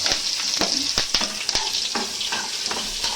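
Dried chillies, curry leaves and coriander roast in a pan, stirred with repeated scraping and clicking strokes over a light crackling sizzle.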